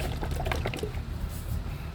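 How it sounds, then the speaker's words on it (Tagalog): A bottle of thin, watery fake Motul engine oil is shaken, giving a brief sloshing, splashing liquid sound that is close and fairly quiet, with no talking. "Ito naman, parang tubig yung inaalog mo eh."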